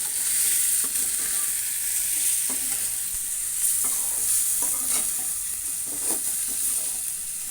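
Chicken curry with chili, salt, garam masala paste and coconut paste cooks in a pan, a steady high sizzle broken by repeated scraping stirs of a spoon, and no voices.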